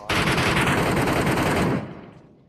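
A loud, rapid burst of automatic gunfire in the battle-royale shooter PUBG Mobile runs continuously for nearly two seconds, then cuts off into a short fading echo.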